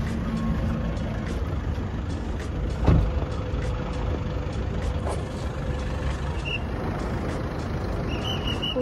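Buses and other traffic jammed on a night road to Jejuri, a continuous heavy engine rumble with one short air-brake hiss, close and loud.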